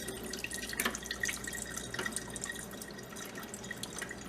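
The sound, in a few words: pouring off water with tomato pulp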